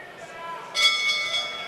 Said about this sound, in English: that's the bell for the end of the 5th round